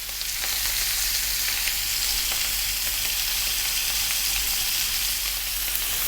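Steak frying in a hot pan with its fat rendering, giving a loud, steady sizzle that runs unbroken and close for several seconds with no talking.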